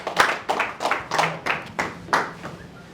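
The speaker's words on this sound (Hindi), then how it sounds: "जोरदार ताली के साथ में स्वागत करो" Audience claps to welcome a poet at a Holi poetry gathering, a series of scattered bursts of hand claps roughly every third of a second, fairly close, with faint background murmur.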